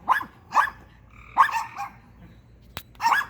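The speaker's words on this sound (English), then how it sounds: "So they bark in shifts." Dogs bark in short repeated bursts at a backyard fence, several sharp barks spaced across a few seconds, fairly close and loud with no talk over them.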